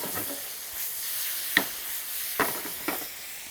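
A fillet of beef browning in a pan with garlic slivers, sizzling steadily at a moderate level, with a few sharp clicks of utensils against the pan.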